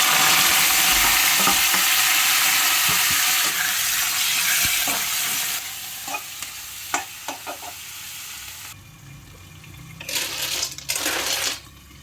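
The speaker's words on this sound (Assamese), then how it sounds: "গাহৰি মাংসটো ভাজিলোঁ।" Pork stir-fried in a pan of hot oil with onions and snails: a continuous close sizzle with scraping stirs and clicks, rising into brief louder bursts of frying toward the end.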